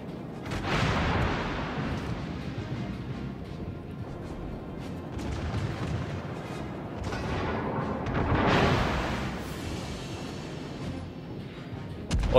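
Heavy booming naval gunfire from World of Warships, a battleship's guns in a sea battle, several deep blasts rolling out over a dense, noisy background.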